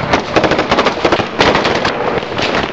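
Rapid bursts of gunfire crack during an Afghan National Army operation in Helmand, dense overlapping shots firing in quick succession, loud and close, with no speech.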